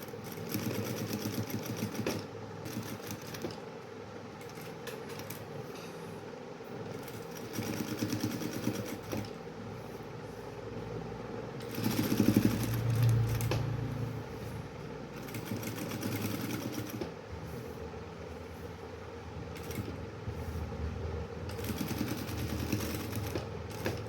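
A sewing machine stitches fabric during a sewing lesson, running as a steady close whirring drone for the whole stretch with slight swells in speed and no talking.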